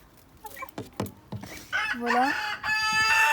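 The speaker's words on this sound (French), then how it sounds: "il y a les poules qui sont en train de tout démolir" Backyard farm hens cluck in short bursts close by, and a rooster breaks into a loud, sustained crow toward the end, while someone speaks briefly over them.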